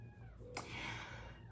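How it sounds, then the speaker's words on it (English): A kitten gives a short, faint meow over a low background hum, a single brief call standing out in an otherwise quiet moment. "sorry about the kittens and everything. And the trilling, the communication."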